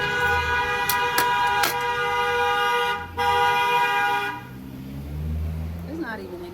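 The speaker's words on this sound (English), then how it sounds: "And now the horn is honking." A car horn honks outside on an empty street, sounding in long sustained blasts with short breaks over the first few seconds. Then it stops, and a person starts talking.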